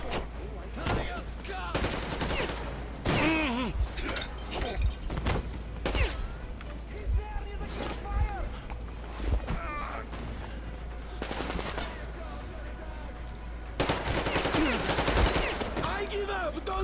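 Bursts of gunfire in Metro: Exodus, a series of sharp clustered shots at a moderate level, with a heavier burst near the end, mixed with game voices and background sound.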